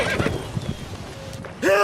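Roach, Geralt's horse in the Witcher 3 video game, lets out a brief whinny with hoof clops amid ambient game sound, a voice speaking just before.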